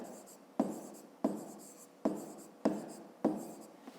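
Pen or chalk writing out a math exercise, with five short strokes landing at a steady rhythm, each a sharp tap that fades into a scratchy trail; close and moderately loud, with no talk.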